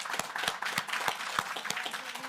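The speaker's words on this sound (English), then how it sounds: "we need to clap for that" Applause at a Torrance city council meeting, a small group clapping in quick, irregular bursts that stay at an even, moderate level throughout.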